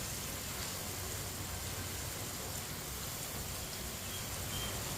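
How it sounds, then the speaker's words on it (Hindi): Onion and garlic frying in a pan while stirred with a spoon for a turnip curry, a steady close hiss and crackle of sizzling oil throughout, with no voices. "इसे ऐसे ही चम्मच चलाते हुए ब्राउन करना है।"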